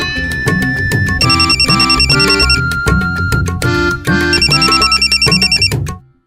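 A phone ringtone plays loudly and close, a repeating electronic melody with beeping tones, then cuts off abruptly at the end.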